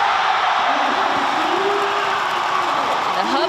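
Arena crowd at a basketball finals game between the Pilots and the Braves, a steady, loud roar of cheering filling the whole space, with a voice talking over it.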